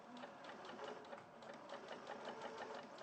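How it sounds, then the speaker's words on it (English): Sewing machine running steadily while stitching a skirt along a strip of tape, a fast even mechanical chatter that carries on without a break from start to finish, at a moderate and close level with no talking. "While you're sewing that."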